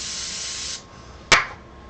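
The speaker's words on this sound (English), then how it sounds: "and spray away from your CA glue" CA glue activator sprays from an aerosol can at a woodturning bench, a steady hiss for under a second, then one short sharp second burst.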